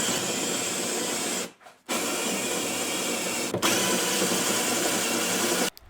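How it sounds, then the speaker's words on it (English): A spot weld cutter bores out a spot weld on the rocker panel of a Mercury Sable, a loud, steady high-pitched drilling whine that stops briefly twice before starting up again. "now we're back with another spot weld being cut"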